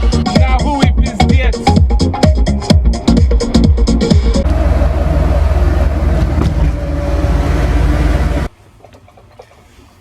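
A Lada car driving in hot South Florida weather, loud engine and road noise up close with rhythmic thumping at first, then a steadier drone that cuts abruptly to near quiet at the end.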